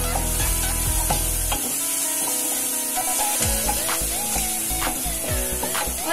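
Spoon stirring chickpea curry with turmeric in a pan, scraping and clacking strokes over a soft sizzle, close and steady with no voices.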